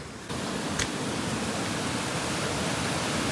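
A swollen river after heavy rain, rushing in a broad, steady roar of flowing water that fills the whole span without pause.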